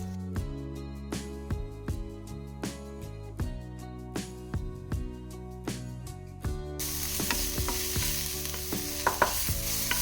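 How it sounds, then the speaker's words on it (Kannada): Finely chopped onions frying in oil for dabeli masala burst into a loud, hissing sizzle partway through, layered under rhythmic background music that plays throughout. "ಉಳ್ಳಾಗಡ್ಡಿನ ತಳಸ್ಕೋಬೇಕು ಎಣ್ಣೆ ಒಳಗೆ."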